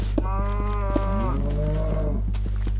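Cows moo in the video game Minecraft, a long drawn-out low moo standing out clearly over a steady electrical hum, with a few clicks.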